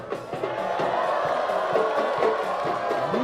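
A football crowd cheers and whoops at a Philippine league match between Dynamic Herb Cebu FC and Philippine Air Force FC, a broad sustained roar of many voices rising and swelling throughout.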